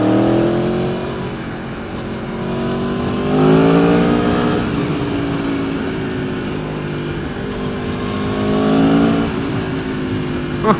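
A 2017 Aprilia Tuono Factory motorcycle engine pulls hard through rising revs, with brief dips at gear changes and steady wind noise throughout, loud and close from the rider's position on the road.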